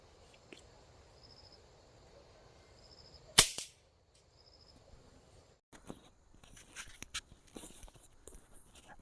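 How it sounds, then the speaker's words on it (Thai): A single sharp, loud gunshot rings out as a test shot at a target 30 metres away at night, standing alone against a quiet background of faint insect chirps, followed by scattered handling clicks and rustles. "วันนี้สิลองทดสอบยิงในระยะ30จะเลือกเฮ็ดอยู่นี่หาเป้าสิลองยิงเป้าสีเหลืองก่อนในระยะ30 เมตร"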